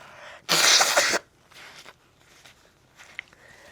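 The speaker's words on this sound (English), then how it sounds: "Sorry, I had to blow my nose." One short, loud nose blow bursts out during a yoga class, lasting under a second, followed by faint rustling and a few soft shuffling sounds.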